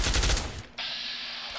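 A rapid burst of gunfire in Fallout New Vegas rattles loudly for about half a second, then gives way to a steady hiss.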